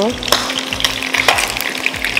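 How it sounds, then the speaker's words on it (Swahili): Food frying in oil in a pot, loud and close, with a crackling sizzle and periodic stirring scrapes over a low rhythmic background hum, no speech. "Sawa napika ile kurukiwa na mafuta."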